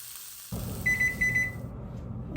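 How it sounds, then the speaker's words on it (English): A kitchen oven timer goes off while a Dutch baby pancake bakes, giving a run of short, bright, evenly spaced beeps over a steady background hum. "Okay, our timer is going off."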